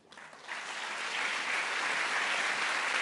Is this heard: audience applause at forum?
yes